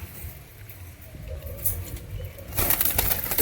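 Mukhi pigeons at a bird market, with soft fluttering and wing flaps rising into a louder burst of flapping near the end over a low murmur of background noise.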